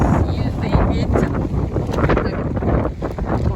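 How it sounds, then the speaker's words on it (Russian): Strong wind gusting across a microphone outdoors at a house in the south after a night of rain, a steady loud buffeting roar with rushing gusts throughout, with a voice talking over it. "Но ветер сильный. Сильный ветер."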